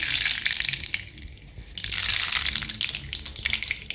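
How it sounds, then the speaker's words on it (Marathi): Mustard seeds hit hot oil in a pan while potato bhaji is being cooked, making a steady loud hiss and crackle that rises again after a brief dip, close and alone. "छानपैकी तेल तापलेलं आहे मोहरी घालूयात"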